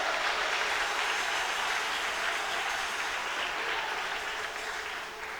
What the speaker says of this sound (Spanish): Alguien aplauda bien fuerte a Dios.